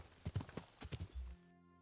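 Horse hooves clip-clopping at a steady walking pace in Kingdom Come: Deliverance, a run of soft thuds that fades to quiet near the end.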